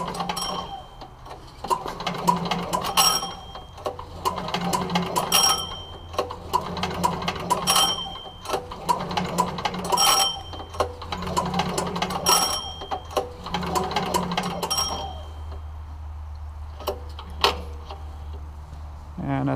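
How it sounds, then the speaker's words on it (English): A log splitter's small engine has its starter cord pulled repeatedly with the compression released, giving a run of rhythmic rasping pulls about every two seconds, with someone talking in between. "Just hold open the valve and release the compression and pull it about 7 times slowly."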